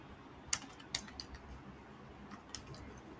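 Typing on a computer keyboard, with a few sharp key clicks in uneven bursts, faint and close against a soft background hiss, no talking.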